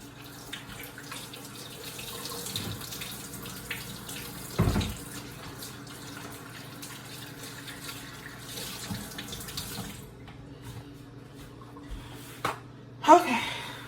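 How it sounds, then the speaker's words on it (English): Tap water runs steadily into a sink while hands are washed, a continuous splashing hiss with a few louder knocks and splashes, ending with brief handling sounds. "First things first, wash your hands."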